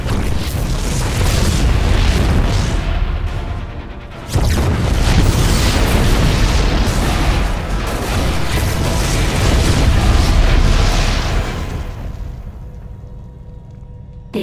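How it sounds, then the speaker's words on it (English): Continuous heavy explosions in StarCraft II: Heart of the Swarm rumble and boom in a dense barrage, briefly cutting out before resuming, then fading to a low hum at the end. "The explosions have stopped."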